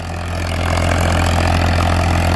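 A Farmtrac 60 tractor with a rotavator attached runs at a loud, steady chug, a constant low engine drone that swells slightly at the start and then holds even, with no talk over it.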